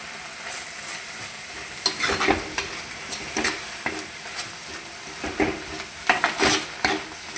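Curry leaves fry and sizzle in a pan of chicken curry base, with steady crackling and bursts of stirring scrapes and spatula knocks throughout, and no voices.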